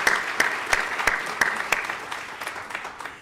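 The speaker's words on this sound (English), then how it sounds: "Anyone want to clap?" Concert audience in Helzberg Hall at the Kauffman Center breaks into applause, a close, full crowd clapping with a few sharp individual claps standing out above the wash, gradually easing off toward the end.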